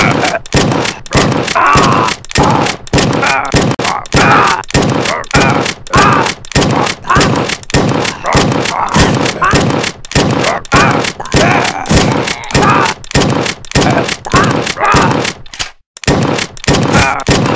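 A shotgun blasts at zombies in the comedy shooter Redneck vs Zombies, a long run of loud, evenly repeated shots with brief gaps, one notable pause near the end before firing resumes.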